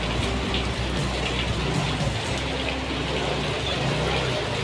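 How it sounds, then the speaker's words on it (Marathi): Heavy downpour pours steadily and loudly around a parked Bullet motorcycle, a dense continuous hiss of rain with no letup and no voices. "मुसळधार पाऊस चालू."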